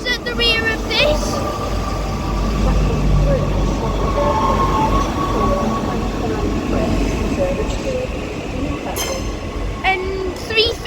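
Class 331 electric train pulling into Liverpool Lime Street station, a loud continuous rumble of wheels with brief squeals and clicks, and a voice talking over it.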